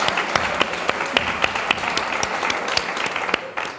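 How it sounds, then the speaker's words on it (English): A tech conference audience at a Node event claps together in a light, scattered round, with individual sharp claps standing out before it quickly tapers off. "let's clap for ourselves"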